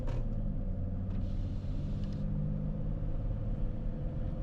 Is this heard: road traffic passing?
yes